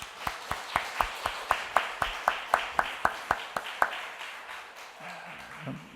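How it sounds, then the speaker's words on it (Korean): A church congregation at a Sunday morning service claps in unison, about fifteen steady, evenly spaced claps over a few seconds in a reverberant hall, then a quieter tail with faint murmuring. "다시 한번 우리 박수로 격려하면 좋겠습니다."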